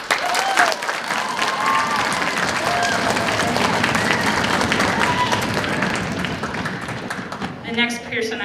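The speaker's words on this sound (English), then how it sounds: "We can give them a round of applause." A crowd applauds steadily at a fifth grade band winter concert, the dense clapping continuing alongside a few voices and fading near the end.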